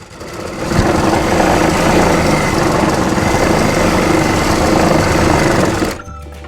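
A sewing machine runs loud and close in one continuous, even whir while stitching the edge of a kurti, then stops abruptly near the end.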